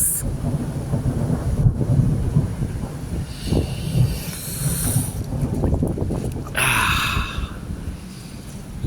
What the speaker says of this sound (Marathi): आणि हा आहे सह्याद्रीचा पाऊस.